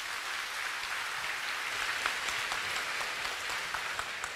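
Steady applause from a seated audience at a religious gathering, a dense wash of clapping heard at some distance, fairly quiet and unbroken, with no talking over it.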